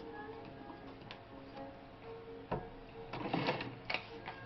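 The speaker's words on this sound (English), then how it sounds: "when you're sewing more layers of fabric, you need a longer stitch length" A Singer 401G sewing machine stitches through several folded layers of fabric, a close, steady mechanical ticking with louder, denser bursts of needle strikes toward the end.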